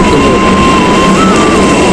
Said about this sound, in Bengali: মেট্রো চলেই এসছে